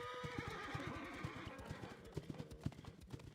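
Horses whinny and their hooves clip-clop steadily in a forest scene of the video game Love and Deepspace, a busy, moderately distant rhythm of hoofbeats with neighs rising over it.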